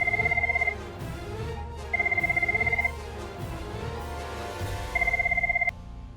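A telephone rings in three bursts of rapid trilling electronic tone, with quiet pauses between them. Low background sounds continue in the gaps.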